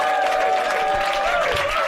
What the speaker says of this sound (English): let's have a round of applause for our brilliant panel